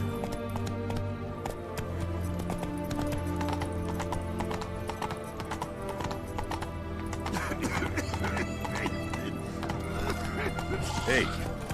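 A horse gallops in The Witcher 3, its hoofbeats a rapid, rhythmic clip-clop close by with a neigh, while in-game voices talk over the hooves.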